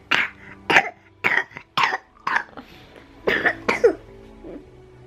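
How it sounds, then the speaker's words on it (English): A small child coughs repeatedly, about nine short harsh coughs in uneven bursts, close by and fairly loud. "Coughs are gonna go away today"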